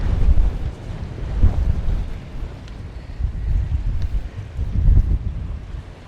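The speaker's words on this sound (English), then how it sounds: "as you can see, and likely hear, it's windy" Strong gusting wind buffets a sailboat deck at anchor, loud low rumbling surges of wind noise rising and falling in waves, with faint rigging and water sounds beneath.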